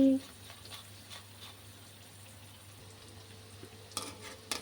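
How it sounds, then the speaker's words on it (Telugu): Spinach pakodas made with maida frying in hot oil: a soft, steady sizzle held low and faint throughout, with a few light clinks and stirring sounds toward the end. "ఈ విధంగా పూర్తిగా అయిపోయేంత వరకు ఫ్రై చేసుకోవాలి"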